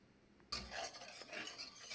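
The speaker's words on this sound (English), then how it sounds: "we're going to go ahead and stir that up into the roux" Spoon stirring salt and black pepper through a roux in a pot, starting abruptly with a steady, close scraping swish that runs continuously with slight surges and no talking.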